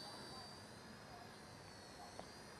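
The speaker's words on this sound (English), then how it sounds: "I'm flying it like a 3-channel helicopter" A small beginner JJRC remote-control helicopter hovers indoors with a steady whirring rotor and motor drone, continuous and fairly close, with one faint knock near the end.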